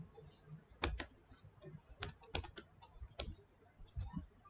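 Keys clatter on a computer keyboard during live Java coding, in quiet, irregular bursts of taps with short pauses between them and no talking.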